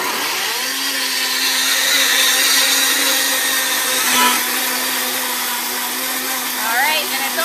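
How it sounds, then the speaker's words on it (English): A kitchen blender whirs steadily while mixing homemade garden salad dressing, a loud continuous motor hum with a whining tone that holds across the clip and dips slightly near the end. "You could mix this by hand, but the blender is gonna make it very thorough."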